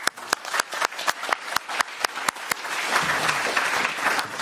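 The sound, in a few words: audience applause for panelists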